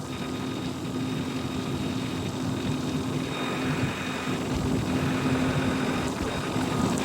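A Deutz Fahr tractor pulling a scraper runs at a steady drone with a constant engine hum, close and loud throughout, with no talk.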